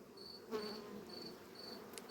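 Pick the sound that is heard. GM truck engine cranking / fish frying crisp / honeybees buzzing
honeybees buzzing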